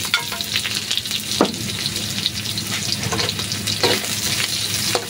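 Garlic, onion and ginger sautéing for chicken adobo, a close, steady sizzle in hot oil broken by scraping stirs of a utensil against the pan.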